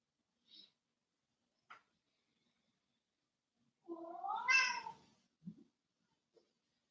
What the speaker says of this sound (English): I think the kitty cats are hungry.